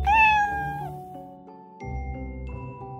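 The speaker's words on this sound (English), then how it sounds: "C is for cat." A cat meows once, a clear, close, rising and falling cry at the start, followed by soft sustained tonal chimes.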